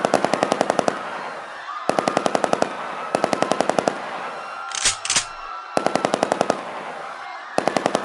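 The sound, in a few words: gunfire sound effect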